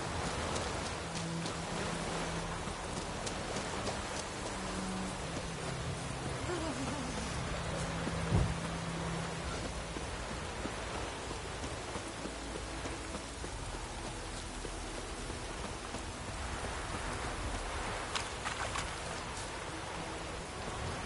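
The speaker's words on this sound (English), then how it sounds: "Let it rain." Steady rain falling on surfaces, a continuous close patter that holds at an even level throughout, with faint low tones and a brief knock in the middle.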